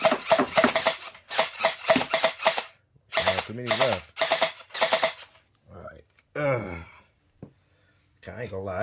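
An MP17 gel blaster pistol fires in several rapid bursts of sharp clicking shots with a whirring motor tone, then pauses before a few shorter, fainter bursts near the end.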